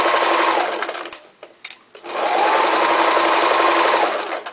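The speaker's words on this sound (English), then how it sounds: "I'm just going to stitch these two together, lower my presser foot." A domestic sewing machine stitches two pieces of fabric together for a small eye pillow, running in a loud, even whir, pausing briefly in the middle, then starting again and running steadily to the end.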